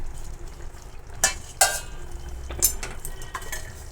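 Mixed vegetable curry for a Bhogi festival dish being stirred in a pan, with a few sharp spoon scrapes and clinks against the metal over a low sizzle, close and moderately loud.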